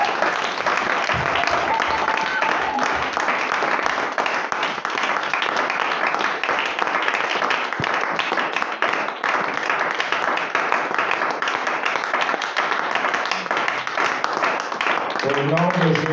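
A church congregation claps and applauds steadily throughout, a dense, loud, continuous wash of hands with voices mixed in.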